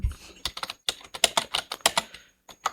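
Name being typed on a computer keyboard in a Microsoft Word document: a close, irregular run of crisp keystrokes in quick bursts with brief pauses between.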